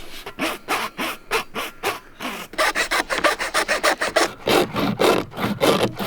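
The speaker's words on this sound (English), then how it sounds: "You know it's serious when the do-it saw comes out." A hand saw cuts through water-system pipe in a steady rhythm of loud, close rasping strokes, pausing briefly partway before the strokes resume faster and harder.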